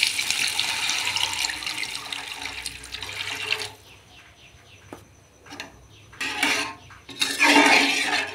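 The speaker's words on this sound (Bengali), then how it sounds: "মশলাটা কষানোর পর জল দিয়ে দেব।" Water poured from a tap or vessel into a cooking spice paste for a pointed gourd mustard curry, a steady rushing pour for a few seconds, then quieter clinks and two more short splashing pours.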